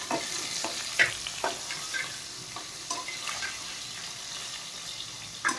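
Mustard seeds crackle and fry in a pan for a rice and dal dish, a soft steady sizzle broken by scattered pops and stirring clicks at close range, with no talk.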